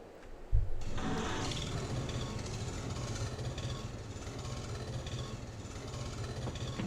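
A Farmall tractor in Farming Simulator 22 starts with a sharp thump and settles into a steady, loud idling engine drone that runs throughout with no talk.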